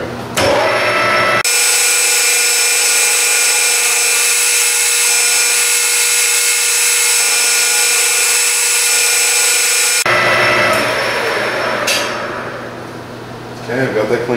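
A metal lathe running at 600 RPM threads a tube, giving a loud, steady mechanical whine with a constant pitch that holds for about nine seconds and then cuts off, followed by quieter workshop noise.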